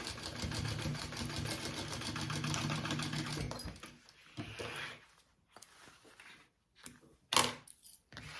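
A sewing machine bastes a bag lining in a rapid, even whir for a few seconds, then breaks into short bursts and stops, with small clicks and handling noises in between.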